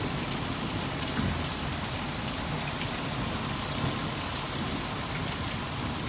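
Rain from a storm in West Pensacola during tornado weather, a dense, steady roar of downpour with a low rumbling undertone, no voices.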